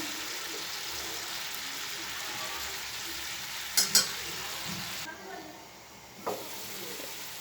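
Ground spices for a rohu fish curry sauté and get stirred in a hot pan, giving a continuous close sizzle with a couple of brief metallic clinks and scrapes partway through.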